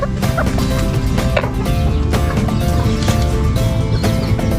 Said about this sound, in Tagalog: manok na abuhin